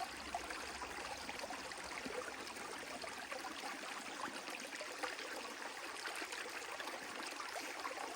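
Creek water running steadily beside an outdoor trail, a continuous broadband rush and trickle at a moderate, even level with no voices.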